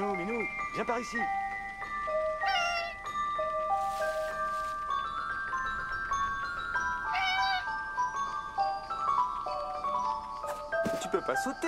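A cat in the video game Memories Retold meows several times in short, rising calls spaced across the scene, over gentle sustained music tones, while someone speaks to it.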